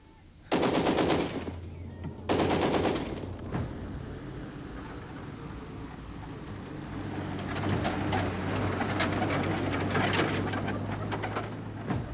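Machine guns firing in a war drama, two loud bursts early on followed by sustained rapid gunfire at a distance, with pigeon-like cooing sounds mixed into the busy background.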